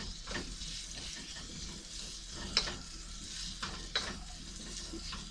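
Singapore-style chow mein stir fry sizzling in a pan aboard a Princess 38 boat, a steady soft frying hiss with occasional stirring clicks, close and alone.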